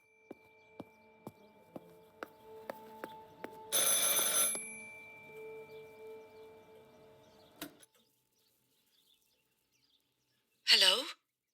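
Telephone in the game Martha Is Dead, ringing in a short series of sharp, evenly spaced bell tones, followed by a louder burst of sound, then near silence and a final brief high ring.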